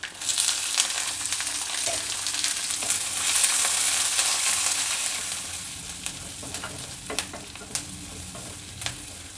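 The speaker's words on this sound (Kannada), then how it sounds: "ನೋಡಿ ಈರುಳ್ಳಿ ಎಲ್ಲ ಚೆನ್ನಾಗಿ ಫ್ರೈ ಆಗಿದೆ" Onions fry with urad dal, chana dal, curry leaves and dry chilies in a pan, a soft continuous sizzle with a swelling hiss midway and scattered stirring scrapes and clicks toward the end, no talk.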